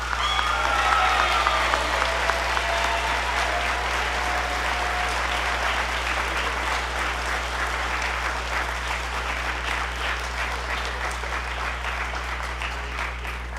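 An audience at a school band spring concert applauds students, a broad sustained clapping that fades slightly toward the end over a low constant hum.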